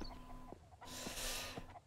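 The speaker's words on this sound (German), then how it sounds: "Ah, das ist ein Hühnchen, okay." A chicken clucks in the survival game Mist Survival, several short close clucks in a quiet scene with a brief burst of hissing noise in between.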